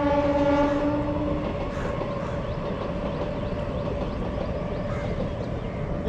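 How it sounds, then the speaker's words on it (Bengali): A passing train sounds its horn in sustained tonal blasts at first, then rumbles steadily and rolls by at moderate distance for several seconds, with no talk over it. "ওই দেখো ট্রেন যাচ্ছে"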